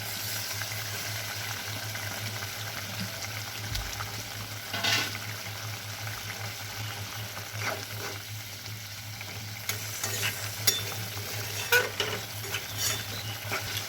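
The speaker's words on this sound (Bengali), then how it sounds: "এবার যে ভেন্ডিটা রেখেছিলাম ফ্রাই করে সেটা দিয়ে দেবো এর মধ্যে। দেখুন ভেন্ডিটা দিয়ে দিচ্ছি।" Fried okra tipped into bubbling masala in a pan, a steady sizzle and frying hiss with occasional stirring scrapes and clinks, close and continuous with no talk.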